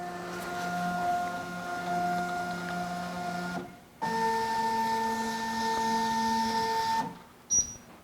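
Label printer feeding out labels in gap mode during calibration, a steady motor whir in two runs of a few seconds each, separated by a brief pause and ending with a short click.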